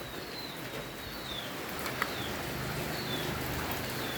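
Steady, soft rain falls continuously in a quiet outdoor setting, with a few faint bird calls chirping through the even patter.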